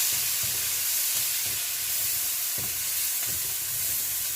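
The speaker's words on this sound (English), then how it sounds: "You stir. You just take your time to stir fry." Onion and tomato paste stir-fried in a little oil in a pot, producing a loud, steady hissing sizzle with occasional stirring scrapes, close and continuous.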